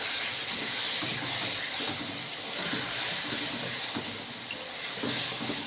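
Paneer being stirred in a pan with spices already fried in a little oil, giving a continuous soft sizzle and hiss with faint scraping from the stirring.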